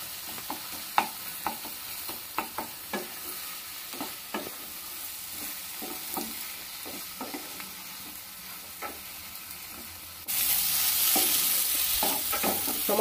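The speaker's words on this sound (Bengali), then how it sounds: "আর একটু কষাবো।" Tomatoes and spices stir-fry in a pan, the spatula scraping in an irregular rhythm over a constant sizzle that swells louder toward the end.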